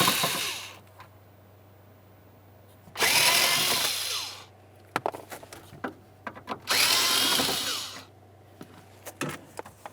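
A power screwdriver removes Phillips head screws from a plastic interior panel on a 1994-2002 Dodge Ram 2500, with two loud whirring bursts of a few seconds each, separated and followed by light clicks and handling taps.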